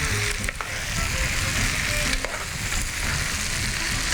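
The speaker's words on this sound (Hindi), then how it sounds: "सब्जियां डाल दूँगी, इनको मैं थोड़ा सा फ्राई कर लूँगी।" Chunks of vegetables sizzle and crackle steadily in a hot pan, with occasional scraping stirs, close and continuous with no talking.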